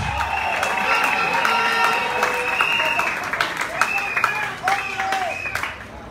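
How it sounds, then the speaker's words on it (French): Wedding guests at a religious wedding ceremony burst into loud, sustained applause and cheering, with whoops and shouts rising over steady clapping throughout. "est-ce qu'on peut applaudir s'il vous plaît, s'il vous plaît, maximum de bruit, on applaudit et on encourage"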